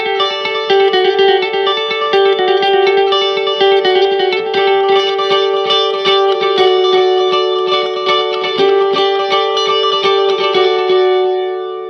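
Electric guitar run through a delay pedal, imitating a rock guitarist's sound on a song: a loud, steady stream of rapidly repeating, echoing arpeggiated notes ringing over sustained tones, with no talking.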